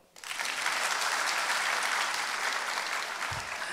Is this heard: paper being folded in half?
no